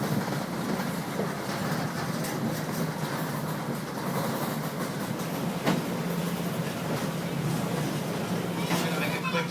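Museum railroad cars, including the Josephine car, roll along the track with a steady rumble and faint clickety-clack, heard from close aboard throughout.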